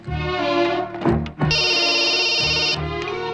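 A phone ring tone sounds loud and close, a sustained electronic trill layered over music, with a short break before it resumes.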